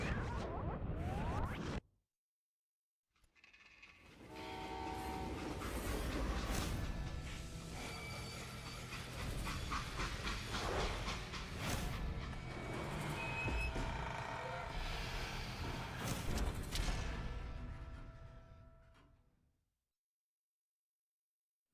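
A freight train in Call of Juarez: Gunslinger rumbles and hisses past after a short silence, a long roaring passage with squealing metal and air-brake hiss that swells, holds, then fades out to quiet.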